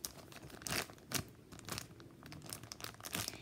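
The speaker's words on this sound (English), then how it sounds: "I'll put it inside the packaging and squish it for the people again who like to hear like the noises, like the crinkly noises" A paper squishy gets squeezed inside its plastic packaging, giving quiet, close crinkles and crunchy rustles in several separate squeezes, with no talking.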